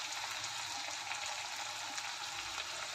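Onion and tomato sautéing in a pan with salt for a bitter gourd curry, giving a steady, even sizzle and hiss that holds throughout without pauses.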